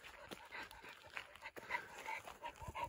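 A dog pulls hard uphill during house renovation work in Portugal, with quick, steady panting breaths and a few soft whimpers carrying through a busy outdoor background.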